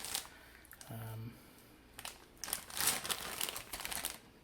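Plastic crinkling from a large bag of parts for an HO scale Faller Horrem Station model kit, coming in short rustling bursts that grow busier toward the end, with a brief low hum partway through.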